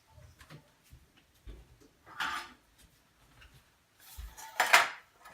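A metal muffin pan is pulled out of a kitchen cupboard, giving scattered clanks and scraping rattles, with one louder metallic clatter near the end, close by and with no talking.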